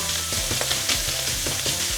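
Cumberland sausage fried rice sizzling loudly in a hot pan, a dense steady crackle with rhythmic scraping and tossing strokes from stirring, close up and continuous.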